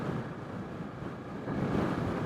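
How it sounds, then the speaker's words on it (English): Steady wind roars over a CRF 300 Rally motorcycle riding at about 70 km/h on a sandy Karoo mountain pass, a continuous broadband rush that grows slightly louder partway through. "the wind is coming from that side"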